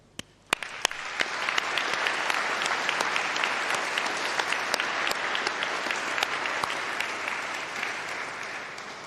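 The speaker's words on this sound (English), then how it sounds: "please let's give a round of applause and a really massive cheer" Applause and cheering break out at a university winter graduation ceremony, starting with a few sharp early claps before swelling into sustained, dense clapping from a large audience.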